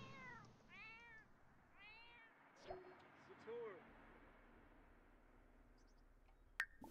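A cat meows several times in The Sims 4, with a run of short cartoonish mews near the start and a few more scattered later, heard over faint game background sound.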